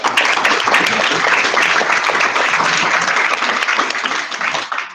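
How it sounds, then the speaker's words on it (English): Loud, sustained applause from a crowd at a data journalism workshop in Jakarta, dense clapping that carries on steadily for several seconds before starting to thin. "another round of applause then?"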